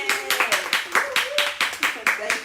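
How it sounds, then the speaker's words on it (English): Audience applause for Janet, a beauty-school graduate of Wilfred Academy, on a talk-style stage: steady rhythmic clapping from a small group for a couple of seconds, fairly close, with a voice cheering over it. "Just give her an applause."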